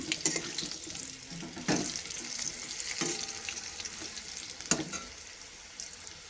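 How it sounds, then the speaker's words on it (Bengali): Potatoes frying in a pan with spices for a fish curry: a soft, steady sizzle with scattered sharp scraping and stirring knocks, close by, no voices. "এখন আলুটাও ভাজা হয়ে গেছে"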